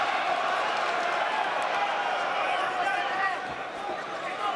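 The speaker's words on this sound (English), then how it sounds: "The crowd trying to rally support." Steady roar of an arena crowd at a professional boxing match, Lomachenko against Campbell, cheering and urging on a fighter, continuous and broad, dipping slightly near the end.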